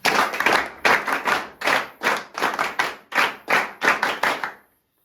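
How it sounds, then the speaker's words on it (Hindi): A group claps for three students at a defence academy. The loud, close hand claps come in about nine short rhythmic bursts separated by brief gaps, then stop abruptly. "तो इन सभी तीनों के लिए जो है तालियां।"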